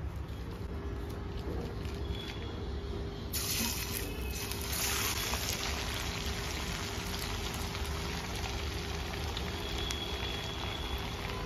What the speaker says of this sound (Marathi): मीडियम गॅसवरती तळायचे। थोडेसे लालसर होईपर्यंत आपण तळायचे।